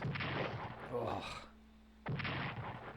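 Artillery fire in the WW2 strategy game Strategic Command, a couple of muffled low booms with a brief tonal hum between them, heard faintly alongside a quiet voice.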